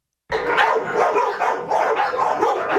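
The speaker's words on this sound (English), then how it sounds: "The familiar barking sound inside the San Bernardino City Animal Shelter is back" Several dogs bark repeatedly and overlapping inside an animal shelter, loud and echoing in the enclosed space, with occasional yips, continuous for the whole stretch.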